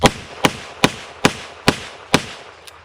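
Six sharp, loud .38 caliber revolver shots fired at close range into soft body armour, spaced evenly about every half second, each a hard crack with a short decay, followed by a faint final click.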